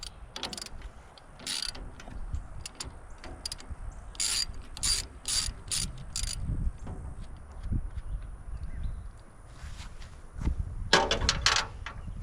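A ratchet wrench with an 11mm socket works on the dynamo of a 1984 Kubota B6200 tractor, giving several close, crisp bursts of rapid clicking separated by pauses, over low shop rumble.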